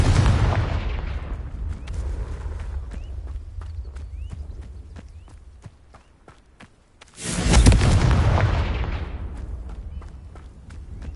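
The Confringo blasting spell in the Hogwarts Legacy video game goes off as a sudden loud explosive burst that rumbles and fades, following a fading earlier blast and a run of steady rhythmic thuds, with no talk.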